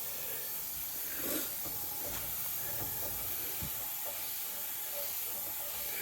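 A metal hose lock sprays water on its mist setting, giving a steady, close hiss that runs unbroken throughout, with a few faint clicks and knocks underneath.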